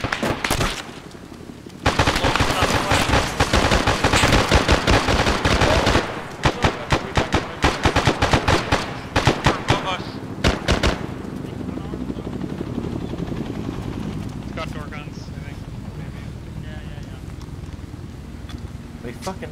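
Bursts of gunfire in Arma 3 crackle densely for several seconds, rapid automatic volleys mixed with single shots, loud and close, then fade into a lower rumbling ambience while voices talk over the action.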